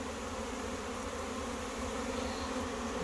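A honey bee swarm buzzes as a dense, steady hum, close and continuous throughout.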